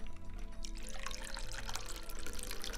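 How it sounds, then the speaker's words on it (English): Liquid pours and splashes into martini glasses, a short close-up trickle of a carrot and apple juice drink with no talking. "Let's pour these into our martini glasses."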